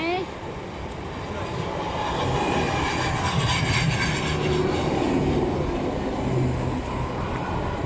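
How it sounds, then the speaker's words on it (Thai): An electric train rolls past on a street line in Istanbul, a loud, steady rumble of wheels on rail that swells and holds for several seconds, with a faint whine in it. "เขาจะเป็นรถไฟฟ้านะคะ"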